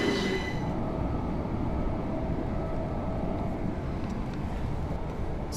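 Passenger train rolling toward Eastbourne on the English coast, a continuous low rumble of wheels and carriage noise with steady hum, no talking.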